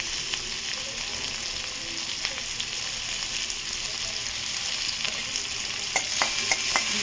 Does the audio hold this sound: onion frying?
yes